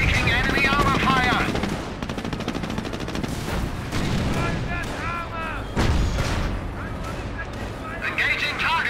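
Battle sounds from Company of Heroes as enemy armor opens fire: dense bursts of gunfire and heavy booming shots pile up over a constant rumble, with game voices talking over the combat.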